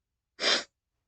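A single short, breathy sneeze bursts out close and clear, lasting about a third of a second amid otherwise silent surroundings.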